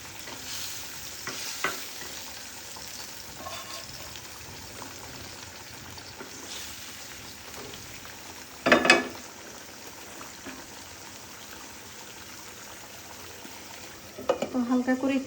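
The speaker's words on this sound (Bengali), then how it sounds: "ঝোলটা কিন্তু এখন ফুটে আসছে" Katla fish curry gravy bubbling in a pan, a low continuous simmer and sizzle with a couple of louder clatters partway through and near the end, close and moderate.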